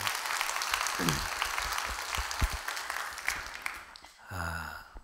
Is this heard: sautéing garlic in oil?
no